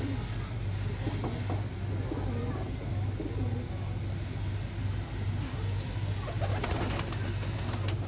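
Golden Ferozpuri pigeons coo softly in repeated low calls against a steady background hum, with a passing car and faint distant voices.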